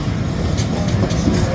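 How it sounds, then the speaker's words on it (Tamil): A train passes, giving a loud continuous rumble with rhythmic wheel clatter close by. "உள்ளே ட்ரெயின் போயிட்டு இருக்கு"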